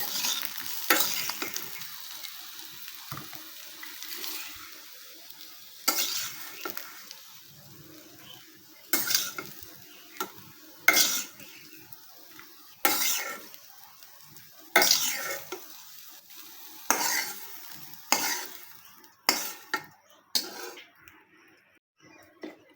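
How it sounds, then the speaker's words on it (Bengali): Pointed gourd fries in a pan with a soft, steady sizzle, broken by a spatula scraping and stirring in regular strokes every couple of seconds. "এই যে দেখুন পটলগুলো সুন্দরভাবে ভাজা ভাজা হয়ে আসছে"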